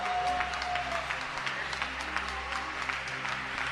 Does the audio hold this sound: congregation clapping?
yes